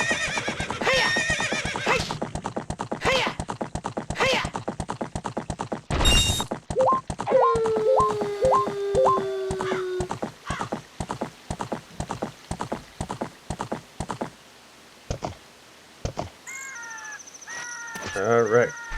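Epona, the horse in Zelda: Ocarina of Time, trots with a long run of rhythmic clip-clop hoofbeats, broken by a clear rising-and-falling whinny in the middle and other game sound effects near the end.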